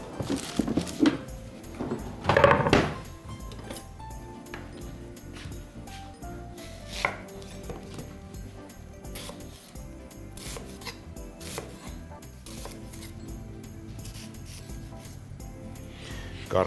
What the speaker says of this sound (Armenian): Գլուխ սոխը կտրատեմ փետրաձև։